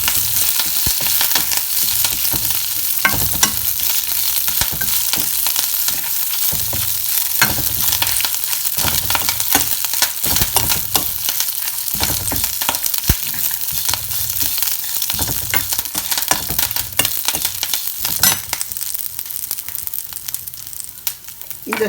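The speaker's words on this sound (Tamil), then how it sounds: "கருவேப்பிலை நல்லா வதக்கிடுங்க." Curry leaves sautéing in a pan for a curry leaf chutney, a loud steady crackling sizzle broken by frequent scraping and stirring strokes throughout.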